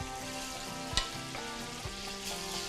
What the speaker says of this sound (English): now I'm going to use that goodness to saute some shrimp